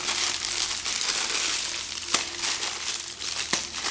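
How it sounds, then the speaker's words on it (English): A plastic piping bag of cookie icing is squeezed and handled as the icing is pushed into a second bag, giving a steady close crinkling and rustling with a couple of sharper crackles, no talking. "squeezing out that icing from the first bag, putting it into the second"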